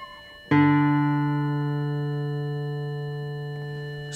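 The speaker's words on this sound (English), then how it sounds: "you will hear the actual pitch from the tuner and you will try to match the string to that pitch" A steady electronic reference pitch from an acoustic guitar tuner starts abruptly and holds as a loud, sustained harmonic tone, fading very slightly over a few seconds.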